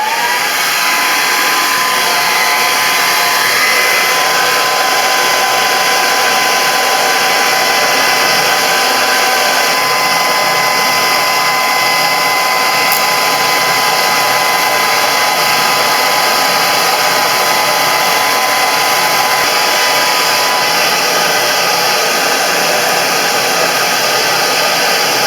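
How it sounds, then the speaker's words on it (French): Hair dryer running at maximum heat during silicone joint work, a loud, constant blowing whoosh with a steady motor hum that stays unchanged throughout, no voices present. "prenez votre séchoir et vous le mettez au maximum de la chaleur"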